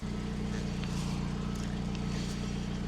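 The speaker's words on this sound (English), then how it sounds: "Let's try it with the engine on." An Audi TTS engine idles with a steady, low rumbling drone that holds constant throughout, fairly close and loud.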